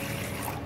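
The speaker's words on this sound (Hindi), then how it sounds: "इसमें डालेंगे 2 कटोरी पानी" Two bowls of water pour into a cooking pot while making tutti frutti, a brief, steady splashing rush heard up close.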